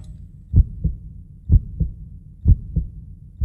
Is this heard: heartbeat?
yes